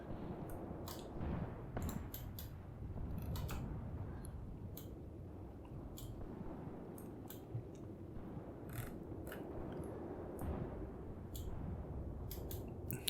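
Gunfire and artillery in the tank battle game Graviteam Tactics, set on the Luga Line: sharp, scattered cracks and distant booms pop irregularly over a low rumbling battlefield, fairly faint throughout.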